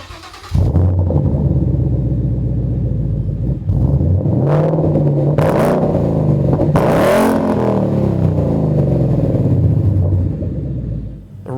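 A 2015-2017 Mustang GT fitted with an MBRP 3-inch aluminized Race Series cat-back exhaust revs up loud and close, with several sharp throttle blips rising over a deep, steady rumbling idle.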